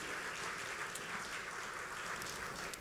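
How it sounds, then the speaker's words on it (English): Audience applause for community volunteers at a local awards event, a steady dense clapping crowd heard at moderate distance for a few seconds, no voices over it. "if we could give them all a big round of applause for volunteering more of their time"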